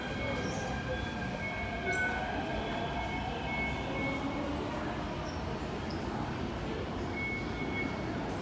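A metro train at Po Lam station on Hong Kong's MTR rumbles steadily on the platform, a sustained low rolling drone with faint high whines and squeals, while someone talks quietly.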